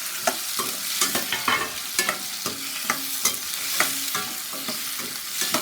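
Shallots and tomatoes sautéing in a pan for a fish gravy, with a steady sizzle under rhythmic, close spoon scrapes and stirs repeating about every half second, no talk.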